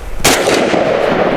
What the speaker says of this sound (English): the gun, how I react to it, how nicely it shoots, and how accurate it is at that distance.